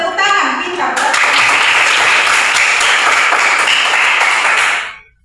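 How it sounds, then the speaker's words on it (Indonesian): Children clapping their hands in a classroom religion lesson, a loud, steady burst of dense applause lasting several seconds before stopping abruptly, with a brief voice just before it starts. "tepuk tangan"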